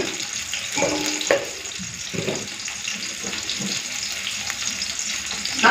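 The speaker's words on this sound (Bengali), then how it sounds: "তো ওইদিকে মাছ ভাজা হচ্ছে" Fish pieces fry one at a time in hot oil, giving a steady close sizzle broken by a few stirring and clinking touches, with faint running water in the background.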